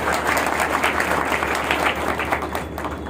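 Sustained, loud audience applause at a business gathering in a marriage hall, steady dense clapping from a large crowd with no letup across the whole stretch.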